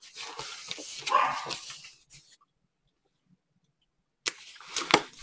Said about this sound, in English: You can hear my dog Rosie. She wants to be part of this video.